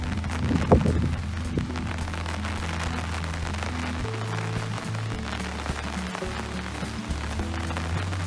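Rain falls steadily on a vegetable garden in July, a soft continuous hiss with scattered drops, a low hum beneath it and a brief knock near the start.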